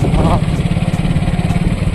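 A motorcycle engine idles close by with a steady, throbbing low putter, loud and unbroken for a couple of seconds.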